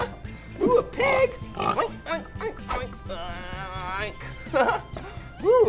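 A person mimics a pig, snorting and oinking in short nasal bursts, the vocal imitation broken up by excited talk about farm animals.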